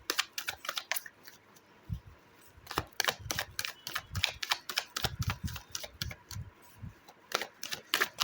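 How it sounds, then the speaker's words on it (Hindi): Tarot cards are shuffled near and quiet in a rapid, irregular run of crisp slaps and riffling clicks, continuing without a break and with no voice over it. "मैं जब तक कार्ड शफल कर रही हूँ"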